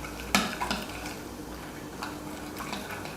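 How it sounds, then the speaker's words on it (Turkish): A baking soda mixture for buckwheat bread being stirred in a bowl, with a sharp clink of the utensil at the start and then soft, steady scraping and swirling close by. "Bununla da bir karıştıracağım"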